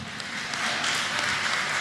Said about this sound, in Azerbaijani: Qoşabılaq kəndini gürültülü alqışlarla salamlayaq